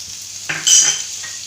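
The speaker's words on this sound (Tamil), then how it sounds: "இது எல்லாத்தையுமே சேர்த்து நல்லா வதக்கிக்கலாம்." A short burst of hot oil sizzling as chopped green chilli, red chilli and garlic hit the pan, with a light scrape of stirring, close and fairly loud.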